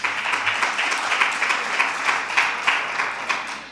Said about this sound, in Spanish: Aplaudid, por favor, quienes creáis que es verdad